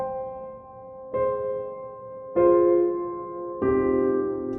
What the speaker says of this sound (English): If you play with higher velocity, it's going to sound like this.